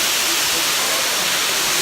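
The Nihaloy waterfalls in Chechnya pour down in a loud, steady, broadband roar that stays constant and unbroken for the whole stretch, with no distinct individual events.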